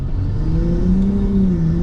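A Nissan Skyline R34 engine hums and rumbles steadily at close range, its pitch rising slightly as if revved, with no talking.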